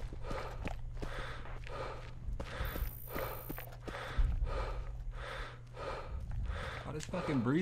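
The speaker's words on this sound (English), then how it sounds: "Oh, this fucking breathing, dude." In a sniper video game, a character's heavy, rhythmic breathing repeats in steady gasping pulses over a low background hum, with a few soft thuds mixed in.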